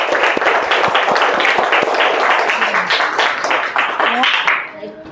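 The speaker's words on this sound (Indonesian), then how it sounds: "Kasih dulu tepuk tangan" Classroom of pupils claps for a classmate, a burst of lively, uneven clapping near and loud that thins out and fades at the end as a teacher's voice returns.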